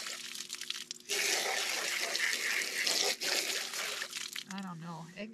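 A garden hose gushes hard against a dirty, egg-crusted pan, a loud, steady rushing spray that starts abruptly after a brief quieter trickle, with a voice speaking near the end.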